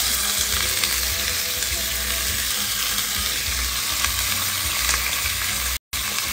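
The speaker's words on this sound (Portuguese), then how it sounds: "Primeiramente eu vou fritar ela aqui, né?" Pork ribs fry in a little lard, giving a steady, close, dense sizzle and crackle throughout, with a brief dropout near the end.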